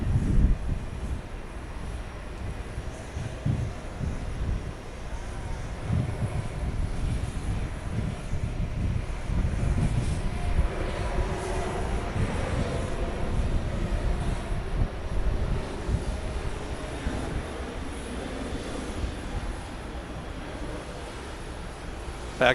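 An airplane taking off on the runway at JFK airport, a loud, sustained engine roar that rumbles steadily throughout with no talk.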